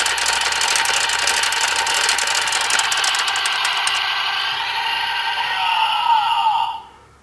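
Zenkaiger DX Geartlinger toy blaster firing its electronic Gatling effect, a loud continuous rattling burst of rapid shots that holds for several seconds before cutting off abruptly.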